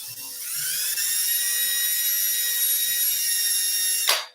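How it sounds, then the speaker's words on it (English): A small high-speed drill whines steadily and close as it bores out a Losi 8ight rear shock part, holding a constant pitch for about four seconds before spinning down abruptly. "Now I'm going to drill this one out."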